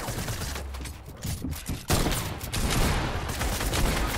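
Gunfire in the Fortnite video game comes as dense, loud bursts of rapid shots that run back to back and fill the whole moment, with no clear voices over them.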